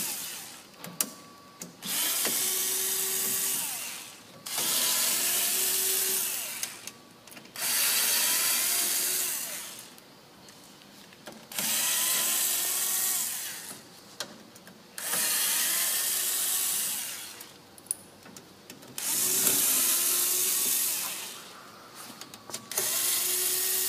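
A ratcheting driver backs Torx T20 screws out of a refrigeration compressor faceplate, making rapid close clicking and whirring runs of a few seconds each, separated by short quiet gaps.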